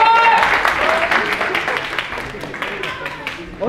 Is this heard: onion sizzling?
no